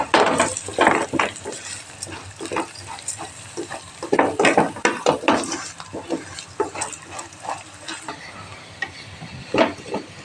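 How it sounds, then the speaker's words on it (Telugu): Moong dal being stirred and scraped in a pan with ginger, close irregular scrapes and clinks of a spoon against metal over a faint sizzle. "పెసరపప్పు బాగా గోలాలి."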